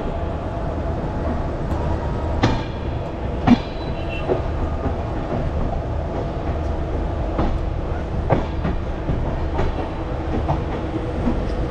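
The Bikaner Express, formerly the Jodhpur Express, runs along the rails bound for Dhanbad with a steady low rumble, occasional wheel clacks and a few brief metallic squeals, heard from onboard at moderate level without talk.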